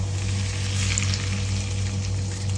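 Hot mustard-seed tempering oil poured over raw mango coated with chilli powder and turmeric for a quick pickle, producing a continuous close, bright sizzle with a low steady hum beneath and no talking.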